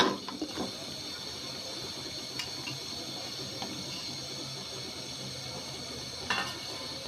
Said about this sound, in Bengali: এই পর্যায়ে এখানে আগে থেকে কেটে রাখা জলপাইগুলা দিয়ে দিচ্ছি